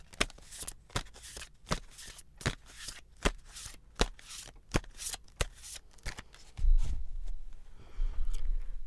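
Tarot cards are shuffled in a rapid series of crisp riffles and slaps, roughly one sharp flick per half second, close and clear, ending in a denser rustle of handling.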